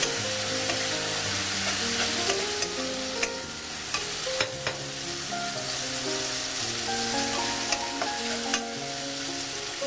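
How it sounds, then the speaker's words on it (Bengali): Spice paste with green chilli paste, loosened with a little water, stirring and sizzling steadily in a pan for a Bengali kundru (ivy gourd) masala, with scraping strokes over a continuous frying hiss and a soft musical tone underneath. "সামান্য একটু জল দিয়ে কষাবো।"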